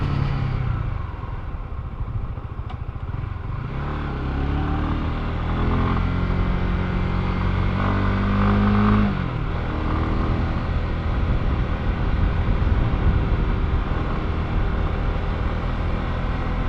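A Honda CBR150R motorcycle is ridden on its first outing, the mid-pitched engine droning continuously and climbing in pitch as it accelerates through the gears, with steady wind and road noise throughout.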